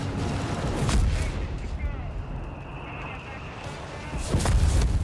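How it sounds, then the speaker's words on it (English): Howitzer artillery fire in the video game Company of Heroes 3, heavy booming blasts near the start and end with battlefield rumble between, someone commentator speaking over it. "Go, howitzer ready."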